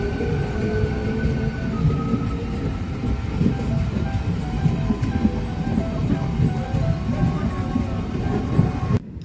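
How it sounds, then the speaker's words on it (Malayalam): A train leaves Muthalamada railway station and rolls on with a steady rumble of wheels on rails, faint squeals rising now and then, the noise filling the whole stretch at close range with only occasional traces of voices. "അപ്പോൾ നമ്മൾ അവിടെ കണ്ട വണ്ടി പുറപ്പെട്ടു കേട്ടോ."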